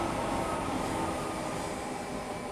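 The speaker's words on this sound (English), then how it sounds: "That was a train." A train rushes past on the Medway Valley Line in Train Sim World 6, a steady, fairly loud broadband roar of wheels and air holding constant throughout, with no voices.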